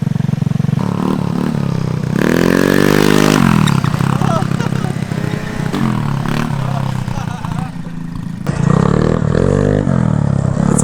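A 150cc GY6 four-stroke scooter revs hard during a wheelie, its engine rising and falling in loud surges with rattling and scraping, close and continuous for about ten seconds.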